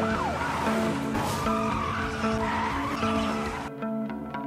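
A car chase in a Korean drama, with tires squealing and skidding loudly under a wailing police siren and revving engines.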